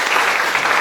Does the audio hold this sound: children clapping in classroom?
yes